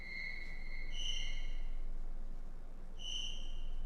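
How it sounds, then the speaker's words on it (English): Cricket-like chirps from the Final Fantasy V video game: a few high, pure whistling tones in short bursts separated by pauses, faint over a quiet background hiss, with no talking. "It sounds like crickets."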